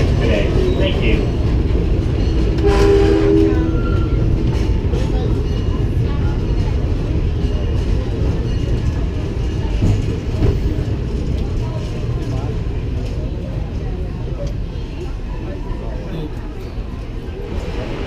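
Disneyland Railroad train rolling toward New Orleans Square Station, a steady close rumble and rattle of the cars throughout, with a voice talking over it.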